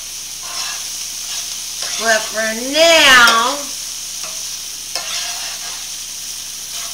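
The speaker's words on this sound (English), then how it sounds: "I threw those minced garlic in there, and I'm going to go ahead and put a little bit of oil in there" Minced garlic sizzles steadily in oil in a pan, a constant frying hiss beneath a brief spoken phrase, with a faint cat-like cry rising in the middle.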